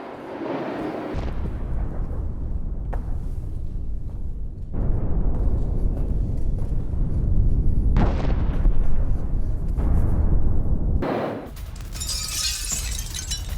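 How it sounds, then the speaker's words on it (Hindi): Loud, heavy booms and deep rumbling from several air strike explosions in Pokrovsk, in abrupt back-to-back bursts with crackling debris noise. "पोक्रोवस्क में रूसी ठिकाने पर एयर स्ट्राइक और रूस के इंडस्ट्रियल साइट को टारगेट किया गया"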